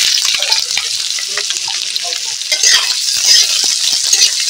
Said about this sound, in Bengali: পেঁয়াজটা এইভাবে নাড়তে থাকবো, যতক্ষণ না কালার পরিবর্তন হচ্ছে ততক্ষণ আমি নেড়ে নেব